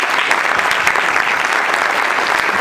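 Audience applause welcoming a speaker to the microphone at the Instituto Tecnológico de Puebla, a brief, loud, dense burst of clapping from a crowd that stays even throughout.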